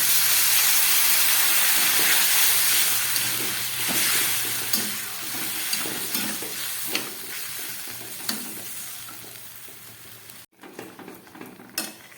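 Water poured into a pan of spiced vegetable curry made with pointed gourd sets off a loud, close hiss and sizzle that slowly fades, then breaks off into quieter crackling.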